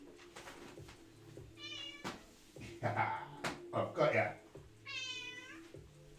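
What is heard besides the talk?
cat meowing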